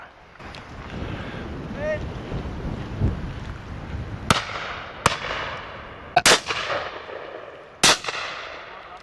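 Shotgun shots ring out at a pheasant shoot during a beaters' day, four sharp reports spaced a second or two apart over wind noise and distant outdoor talk.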